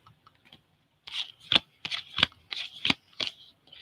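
A stack of trading cards from a 3200-count box is sorted by hand, giving a quick series of about eight crisp, close flicking and riffling bursts after a near-silent start.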